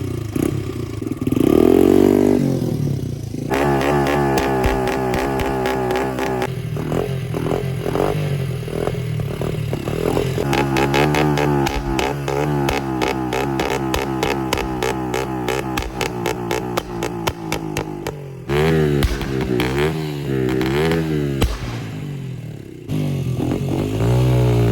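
A small carburetted petrol engine like a leaf blower's runs close by, a buzzing, rattling drone that rises and falls in pitch as the throttle is worked, with a few short pauses and clattering scrapes.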